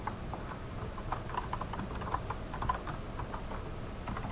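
Light, fast tapping on a computer keyboard, a steady stream of soft key clicks at close range with no talking.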